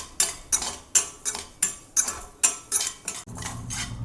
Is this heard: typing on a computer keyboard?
no